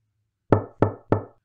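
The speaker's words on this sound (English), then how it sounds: "Who's that knocking on our door?" Three firm knocks land on a door at an even, unhurried pace, close and distinct against near silence.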